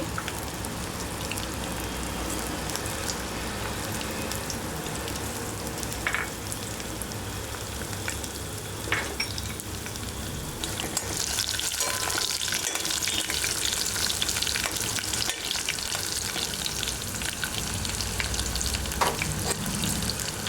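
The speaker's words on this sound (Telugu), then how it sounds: "వెల్లుల్లిపాయ పోపు సామాన్లు పచ్చిమిర్చి ఎండుమిర్చి కాస్త వేగినాయి" Crushed garlic, tempering spices, green chillies and dried red chillies fry in hot oil for drumstick dal, a dense continuous close-up sizzle that grows louder and brighter partway through, with occasional stirring clinks.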